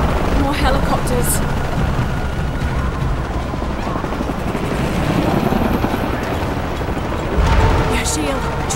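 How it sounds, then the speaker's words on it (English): Thudding rotor noise of helicopters amid a chaotic Shadow of the Tomb Raider game soundscape, with bursts of gunfire and explosions and radio-style voices talking over it. "Helicopters."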